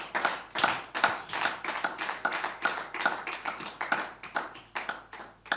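An audience claps in rhythmic applause at a French-language sermon, with steady, evenly paced claps that rise and fall in loudness and no talking over them.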